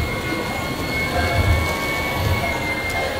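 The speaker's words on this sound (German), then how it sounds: "Überall fahren gerade Züge, Trucks, Autos" Model trains run along the layout at Miniatur Wunderland Hamburg, making a continuous rolling rumble with a steady mechanical whine in a busy hall. Faint voices sit in the background.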